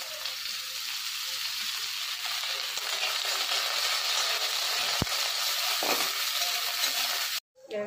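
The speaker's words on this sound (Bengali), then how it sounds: "গাজর ভাজা হয়ে গেছে, বাঁধাকপিগুলো কড়াইয়ে ছেড়ে দিলাম।" Cabbage fries in hot oil in a wok, a steady loud sizzle throughout with a brief clink of a utensil near the end.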